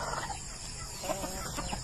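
Chickens in a farm chicken house cluck softly, a faint, low-level murmur of fowl heard at a distance over steady background noise.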